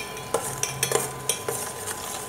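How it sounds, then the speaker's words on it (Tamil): A homemade herbal hair oil with whole leaves is stirred in a pan, giving a run of soft scraping, clinking strokes at an uneven rhythm over a faint steady sizzle, close and quiet with no talking. "இது நல்லா அப்படியே கிண்டி விடுங்க"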